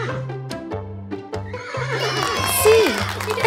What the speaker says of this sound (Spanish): Es el caballo